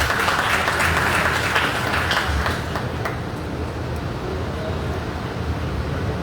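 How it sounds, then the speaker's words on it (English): An audience claps for Invest India at a business event in San Fernando, a dense, loud wash of applause that stays steady and then eases slightly toward the end. "Let's give them a round of applause again"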